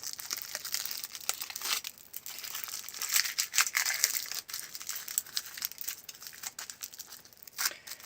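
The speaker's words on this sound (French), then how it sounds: "On a un peu trop de papier d'aluminium." Aluminium foil being crumpled by hand, a busy, close crackling and crinkling with irregular sharp rustles throughout, no talk.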